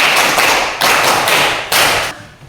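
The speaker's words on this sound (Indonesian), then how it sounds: "Tepuk 5 kali" Students in a classroom clap in unison through a five-beat clapping pattern, each burst bright and crowded, heard close with no talking over it.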